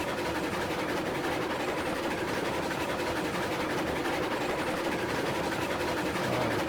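A heavy freight train rumbles along in the Railroads Online game, a continuous low churning roll with a faint rhythmic clatter, steady and moderately loud throughout, with nobody speaking.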